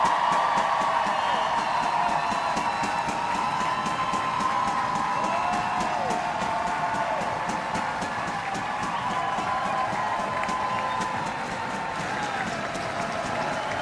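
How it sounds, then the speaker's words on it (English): Crowd at Kingsmeadow stadium applauds footballer Maren Mjelde at a women's league match, Chelsea v Bristol City, a loud sustained roar of clapping and cheering that holds steady and eases slightly near the end. "Maren Mjelde takes rightfully the applause here at Kingsmeadow"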